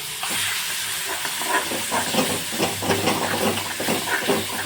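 A paste of garlic, ginger, chili and coriander hits hot oil in a pan for Mumbai-style vada pav and sizzles steadily with a loud, hissing crackle throughout. It is heard close up on its own.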